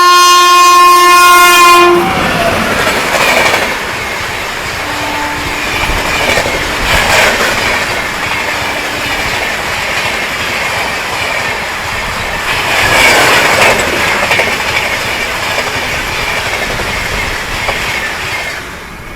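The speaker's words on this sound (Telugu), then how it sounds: "ఇప్పుడైతే 18463 భువనేశ్వర్ బెంగళూరు ప్రశాంత్ ఎక్స్ప్రెస్ వస్తుందండి" The Bhubaneswar–Bengaluru Prashanti Express, an Indian passenger train, sounds a long loud horn blast as it nears an abandoned station, then its coaches roll past with steady rumble, clickety-clack and brief wheel squeal.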